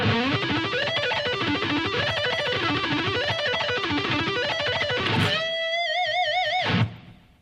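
An electric guitar plays a three-note-per-string pentatonic pattern fast, a rapid even run of picked notes climbing and descending in waves, ending on a sustained vibrato note that rings out and cuts off.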